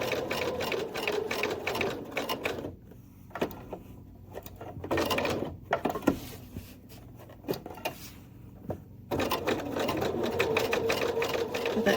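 Sewing machine binding a small quilted mug rug, stitching in long loud runs of dense rapid whirring broken by short quiet gaps with handling clicks, heard up close without talk.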